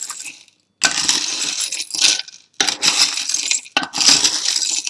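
Tarot cards shuffled by hand in several bursts of crisp riffling and slapping, loud and close, with short gaps between them and no talking.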